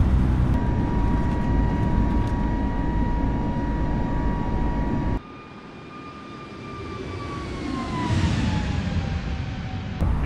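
An airliner in Microsoft Flight Simulator roars steadily with jet engine noise and a high whine during takeoff from LAX. The sound dips abruptly partway through, then swells again as the pitch of the whine slides.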